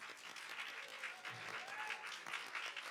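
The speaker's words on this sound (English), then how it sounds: "we'd like to give you a round of applause" Faint, distant applause from a church congregation for fathers standing during a service, a steady wash of clapping heard at low level throughout.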